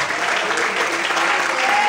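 Steady applause from a church congregation fills the room for a couple of seconds, a dense, even roar of many hands.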